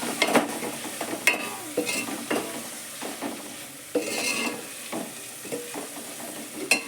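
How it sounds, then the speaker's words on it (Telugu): Potato kurma is stirred in a pan, with repeated scraping strokes and soft clinks over a low steady sizzle, close and fairly even in rhythm, with no voices. "మంచిగా మిక్స్ చేద్దాం."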